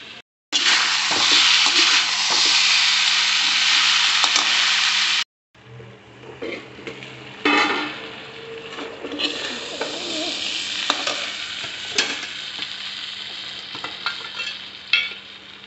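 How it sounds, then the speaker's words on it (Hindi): Potatoes and cauliflower frying in a pan give a loud, steady sizzle at first. After a brief cut, a softer crackle follows, broken by stirring scrapes and clinks of a utensil against the pan. "गोभी ढक के पका लेंगे इसको।"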